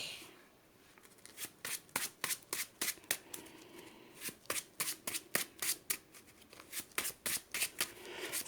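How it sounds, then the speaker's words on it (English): A Marvel Champions card game deck being shuffled in quick, crisp riffling bursts, repeated several times at close range with no talking. "Shuffle my deck."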